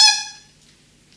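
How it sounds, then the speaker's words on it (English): A bassoon double reed made of Mediterranean pond reed is blown on its own, giving one short, bright, buzzy squawk that fades within half a second and leaves near silence. "If you blow the reed, it sounds like this."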